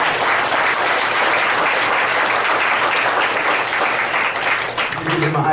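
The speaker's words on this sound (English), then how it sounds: "give the Lord a hand clap of praise this morning" A church congregation at a Temple of Praise service breaks into loud, sustained applause as a hand clap of praise, dense clapping filling the room, with a voice over it near the end.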